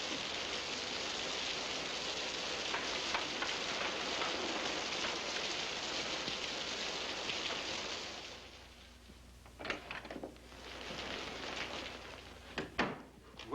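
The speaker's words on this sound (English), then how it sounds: "It's raining worse, Chatty, and I'm scared to go on." Heavy rain pours steadily outside a rural house with a stable, a dense continuous hiss that suddenly drops away, leaving quieter dripping, a few knocks and faint movement.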